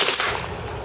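A Marushin M2 carbine gas airsoft gun fires rapidly in a dense, loud burst of sharp pops that run together with no gaps over the short stretch.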